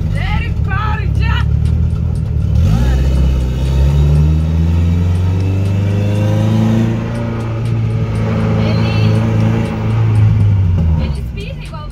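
Turbocharged Chevrolet Chevette with an AP engine revving hard, its loud close engine note rising and falling in long sweeps with sharp popping bursts, while people talk over the roar.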